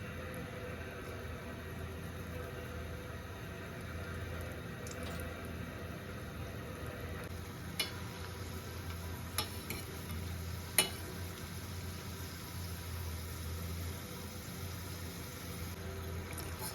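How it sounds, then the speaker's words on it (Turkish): Soft, steady sizzling of onion rings deep frying in oil in a small pan continues throughout, with a few faint clinks and taps from a utensil. "Bol yağda kızartmam gerektiği için küçük bir tavaya aldım"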